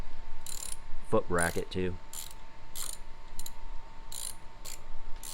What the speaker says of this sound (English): we're torquing this down to, it says, instructions say 30 to 35 foot-pounds